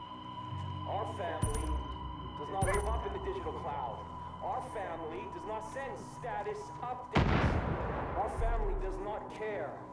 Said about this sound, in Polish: Co to wybuchło?